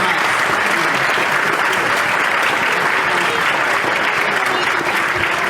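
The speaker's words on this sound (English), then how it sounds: "we have to round up with a big warm applause for Mike Quinn" Loud, steady applause from a convention audience at a sci-fi fan event in Sweden, dense clapping that fills the whole stretch without a break.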